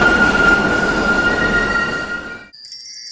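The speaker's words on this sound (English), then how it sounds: "Subway train." A subway train runs past with steady rumbling and tonal whine for about two and a half seconds, then cuts abruptly to a brief high electronic tone.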